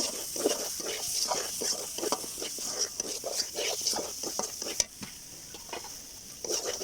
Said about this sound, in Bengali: এখন আমি সবগুলো মশলা আবারও নেড়ে চেড়ে নিব